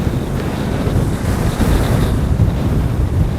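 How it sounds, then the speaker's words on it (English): Strong wind buffets the microphone on an exposed mountain ridge in the Black Mountains, a loud, steady roaring rush with gusty swells and no voices over it. "I don't think you probably can hear me because it's very windy"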